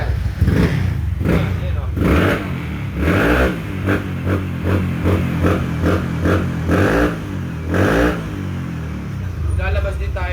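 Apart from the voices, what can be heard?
engine revving through a custom performance exhaust pipe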